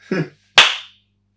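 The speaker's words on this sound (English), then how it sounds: "what if we just clap our hands" Two sharp hand claps, the first softer and duller, the second a crisp loud smack about half a second later, each cut short in a quiet room.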